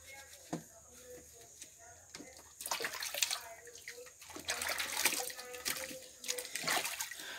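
Water splashes and runs in uneven bursts while a Pinscher dog is bathed in a tub, with voices talking over the washing.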